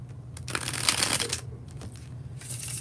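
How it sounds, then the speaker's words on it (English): Tarot cards riffled in a bridge shuffle, a close, crisp flutter of cards swelling in the middle and trailing off, with a second brief riffle near the end, no voices. "When I do the bridge shuffle here at Free Will Tarot"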